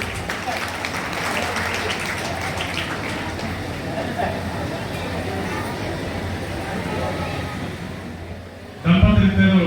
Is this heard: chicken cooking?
no